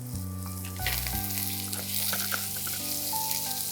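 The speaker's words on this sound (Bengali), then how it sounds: "এই যে তুমি পেঁয়াজটা কেটে কি খুব লাল করে ভাজবে না হালকা ভাজা হবে?" Onions frying lightly in a pan, a steady close sizzle with occasional stirring clicks and a low tonal hum running underneath, no voices.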